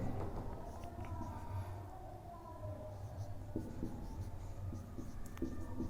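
Writing on a board during a chemistry lesson, heard as a steady run of faint scratchy strokes against a low room hum, with no talking.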